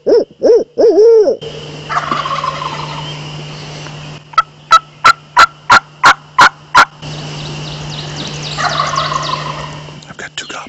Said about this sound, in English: I've got two gobblers here.